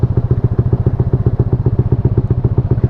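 A Yamaha Lexi scooter on a test ride gives a loud, close, steady engine chug, a fast even pulsing throb that carries throughout with no talking.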